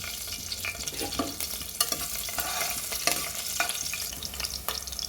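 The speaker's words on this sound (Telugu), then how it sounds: "ఆయిల్ వేడెక్కింది కదా, 2 పచ్చిమిరపకాయలు ఇలా చీలికల కింద కట్ చేసి వేసుకోవాలి" Two slit green chillies sizzle in hot oil in a pan for a small clam curry, a busy crackling fry with scattered pops and the scrape of stirring, close and with no talk.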